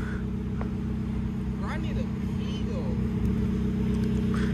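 A Nissan Skyline R34 with a four-cylinder engine holds a steady, low, rumbling drone throughout, while people talk over it.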